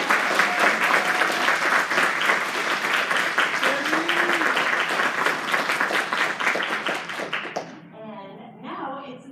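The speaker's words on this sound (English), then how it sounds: "let's give them the biggest round of" A room full of people at a new teacher induction ceremony claps steadily and loudly for several seconds, the applause tapering off before a speaker's voice resumes alone at the end.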